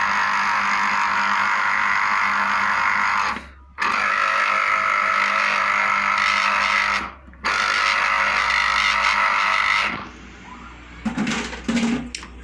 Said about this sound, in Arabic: غادي نطحن